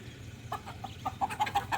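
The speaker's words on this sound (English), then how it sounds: "Another chicken." A chicken in Panama gives a string of short, soft clucks in quickening rhythm, faint against a low background rumble.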